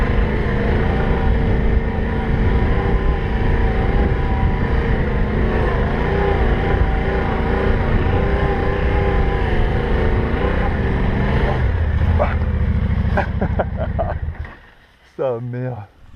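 Heavy adventure motorcycles, a Ténéré 700 and a BMW 1200GS, ride offroad through rutted sand in Albania. A loud, steady engine drone runs close by before cutting out near the end, with someone talking over it.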